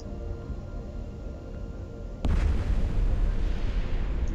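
A warehouse blows up in the space game EVE Online: an ongoing low rumble suddenly gives way to a deep, loud boom halfway through, followed by a heavier sustained roar.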